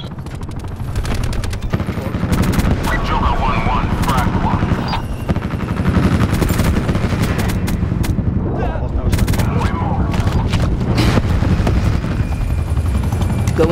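Call of Duty Black Ops 4 gunfire: repeated bursts of automatic shots over a constant loud helicopter drone, with occasional game speech mixed in.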